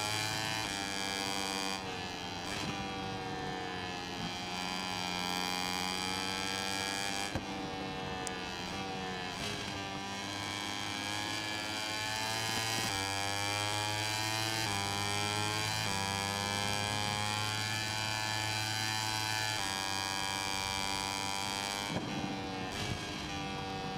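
A Moto3 racing motorcycle engine at Losail in the video game MotoGP 21, a sustained high buzzing whine that holds at the rev limiter and drops and climbs again through gear shifts.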